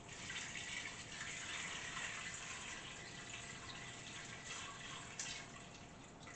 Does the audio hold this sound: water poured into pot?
yes